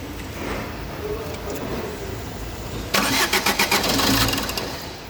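A Fiat Doblo with a 1.3 Euro5 diesel engine, under repair with its turbo hoses not yet fitted, cranks briefly and catches midway, then revs in a quick series of throttle blips close by over background workshop noise.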